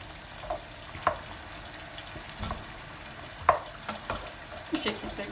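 Bread cubes in sauce sizzle in a pan with a steady frying hiss, broken by scraping stirs and soft clinks at irregular intervals.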